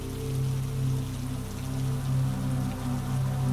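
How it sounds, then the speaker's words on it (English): Steady rain falls outside, a soft, continuous patter with gentle swells in loudness and no voices. "The rain outside grew softer"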